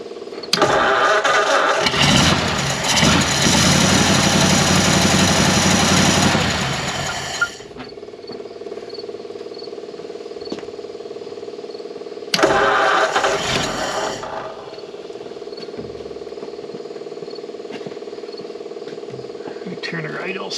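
A 1937 Ford flathead V8 in a taildragger cranks and fires, running loudly for several seconds before settling to a rough idle, then revs up again in a second loud burst; voices talk briefly over it.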